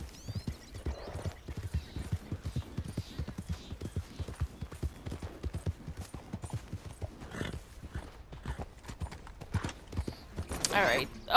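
Horse hooves clip-clopping in Red Dead Redemption 2, a steady rapid galloping rhythm running throughout at moderate level, with an occasional whinny and a louder burst near the end.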